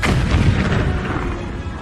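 Explosion effect in a Marathi horror story narration, a loud deep booming blast that rumbles and decays over about two seconds, heard alone.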